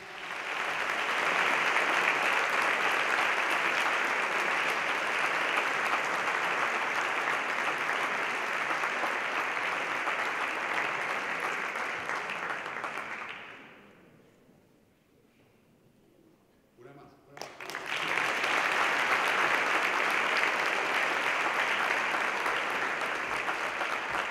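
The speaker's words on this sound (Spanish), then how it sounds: "Fuerte el aplauso una vez más." Loud, sustained applause from a large crowd, dying away to near quiet midway before a second burst of clapping rises and continues strongly.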